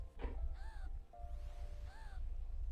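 Crow caws from a character emote in Final Fantasy XIV, two short rising calls heard over a low ambient game rumble, with no talking.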